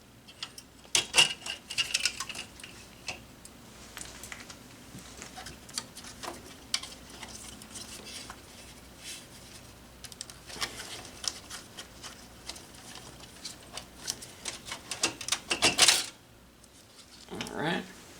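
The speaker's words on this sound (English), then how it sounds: "So now we'll go ahead and pop this graphics card out." A graphics card is removed from a Dell Precision T3500 desktop PC, with scattered plastic clicks, light metallic taps and rattling handling noises, some louder snaps near the end.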